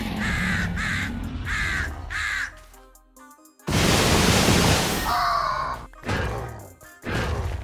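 Loud crow caws from a Minecraft anime mod video game: four quick harsh caws in a row, then a burst of rushing noise and a few more cawing calls, close and without talk.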